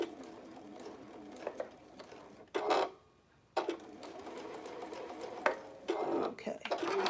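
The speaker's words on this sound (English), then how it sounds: "Back stitch." A sewing machine back stitches fabric in short bursts of quiet, rapid whirring, stopping and restarting with small clicks between runs.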